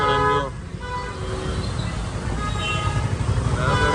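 Car horns honk repeatedly in a rainy traffic jam, with loud tooting at the start and end over a steady wash of traffic noise and rain.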